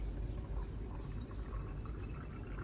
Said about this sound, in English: I evenly pour the diluted coffee and baking soda solution over the surface of the Anthurium's growing medium.